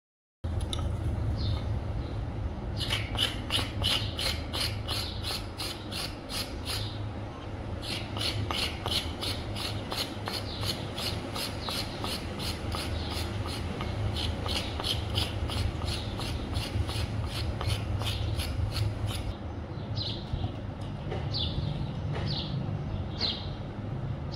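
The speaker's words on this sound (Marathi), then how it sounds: "दोडका किसून दोडक्याचं कालवण करूया" Ridge gourd (dodka) grated by hand for a curry, making a steady run of rhythmic rasping strokes, close and fairly quiet, broken by a few short pauses.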